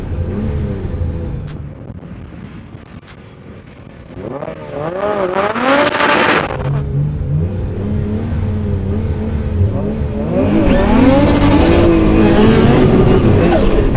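An 800 hp R34 Skyline and a 400 hp K20-engined sleeper Mini race against each other. Engines rev hard and accelerate, rising in pitch, and a brief tyre squeal comes midway. The noise swells loud and close toward the end, with no talking.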